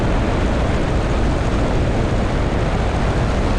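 Steady, loud drone of a Pietenpol light aircraft's engine and propeller on a long final approach to runway 18 at Fallbrook, a continuous broadband roar filling the whole stretch with no talk.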